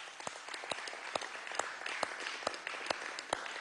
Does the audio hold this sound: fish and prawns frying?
no